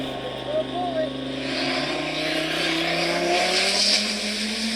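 A high-performance car roars at speed, its engine note climbing steadily in pitch as it accelerates, moderately loud with a faint tire squeal and voices talking over it.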